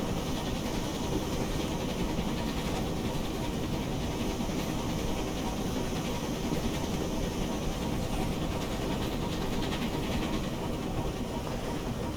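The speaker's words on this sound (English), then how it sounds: "It's got some of my personally favorite chuff sounds in game right now." An LSWR T3 4-4-0 steam locomotive runs in Train Simulator Classic, giving a dense, continuous rumble and hiss at an even loudness with no clear breaks, heard alone.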